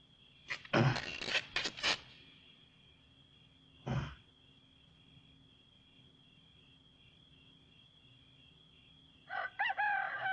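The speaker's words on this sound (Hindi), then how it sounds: "देखो मुर्गा कब से बांग दे रहा है।" A rooster crows at a moderate distance in several rising, ragged bursts, with a shorter call after a pause and another crow at the end over a steady cricket-like hum.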